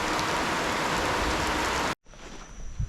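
Heavy rain pours steadily in a Panama forest for about two seconds, then cuts off abruptly to a quieter patter of drops with faint distant noise.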